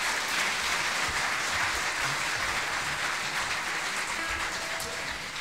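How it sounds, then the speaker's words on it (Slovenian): Steady applause from a crowd, dense clapping that continues evenly throughout and tapers slightly at the very end. "ampak en aplavz ne bo škodil."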